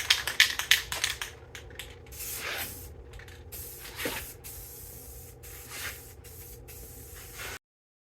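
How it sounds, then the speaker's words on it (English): A spray paint can hisses dark green paint onto a Jeep Grand Cherokee WJ axle in a series of close, loud bursts of varying length, with brief pauses between them and a short rattly burst at the start. "So we're going to get to spraying."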